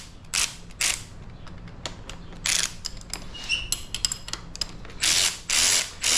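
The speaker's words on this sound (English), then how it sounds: "it's a 6mm Allen and a 12mm wrench to tighten these up" A 6mm Allen key and a 12mm wrench tightening the handlebar clamps on an SSR dirt bike, producing clicking ratchet-like bursts and metallic creaks in short irregular spurts, close and fairly loud.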